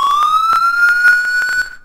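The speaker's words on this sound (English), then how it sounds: "Oh, that's the real siren it has too." A police vehicle siren from the video game EmergeNYC wails in a rising tone, loud and close, with sharp rhythmic clicks punctuating it before it cuts off.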